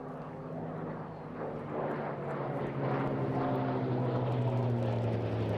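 A Hawker Fury propeller fighter making its final pass at the Eastbourne airshow, its engine drone steady and loud with a gradual swell as it closes in, with no one talking.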